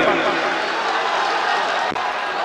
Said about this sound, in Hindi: तालियां बजनी चाहिए दोस्तों